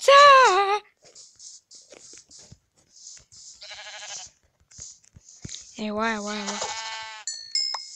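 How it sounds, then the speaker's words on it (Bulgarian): A sheep in a video game bleats several times, with game clicks and crunches around it and a speaker's voice at the start. "Овца!"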